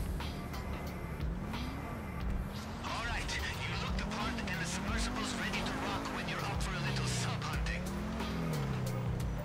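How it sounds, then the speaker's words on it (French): Car driving in GTA Online, a steady engine drone with rising and falling revs, tire squeals and skids, loud and continuous under someone talking. "Bon, on va y aller avec ma voiture, on va pas s'embêter."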